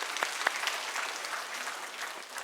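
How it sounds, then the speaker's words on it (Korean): A church congregation applauds, a dense steady wash of many hands clapping at moderate distance, with a few sharper individual claps standing out near the start before it tapers slightly. "박수 한번 하십시다"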